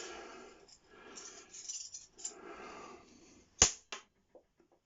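Quiet scuffling and handling noises, then a sharp snapping shot from a spring airsoft pistol followed by a smaller tap and faint clicks as the pellet bounces away.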